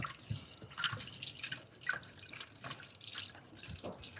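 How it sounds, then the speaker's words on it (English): Tap water runs over a freshly cleaned necklace during a rinse, producing a close, continuous trickle with irregular dripping and splashing at moderate loudness, and no voices. "Just going to give it a quick rinse to get any excess paste off there."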